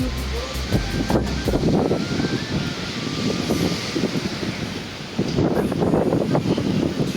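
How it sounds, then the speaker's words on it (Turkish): Strong wind on a beach buffets the microphone in loud, continuous gusts, roaring and rumbling with only a brief lull before picking up again. "Rüzgar bayağı yoğun ya."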